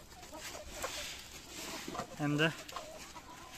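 Chickens in a backyard flock give soft clucks, with one clearer, louder call near the middle, while a person talks over them.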